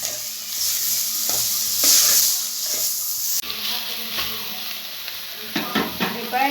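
Small tomato pieces sautéing in a hot pan give a loud steady sizzle, with a spatula stirring and scraping at intervals throughout.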